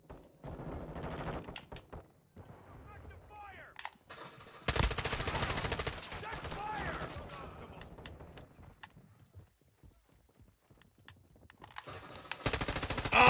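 Bursts of automatic gunfire from online Modern Warfare II play, with loud stretches of sustained shooting separated by quieter gaps, and some voices under the game sound.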